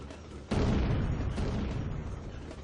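A grenade goes off in a video game with a sudden loud boom, followed by a long rumbling roar that slowly fades, heard alone without speech.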